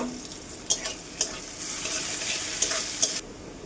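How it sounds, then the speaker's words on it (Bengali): Chopped onions fry in hot oil with dried chillies, a bay leaf and cumin. A steady close sizzle carries sharp spatula scrapes at intervals, and a louder surge of crackling swells midway before easing off. "পেঁয়াজটাকে লাল লাল করে একটু ভেজে নেব"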